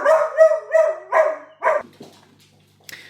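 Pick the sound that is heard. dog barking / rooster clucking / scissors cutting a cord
dog barking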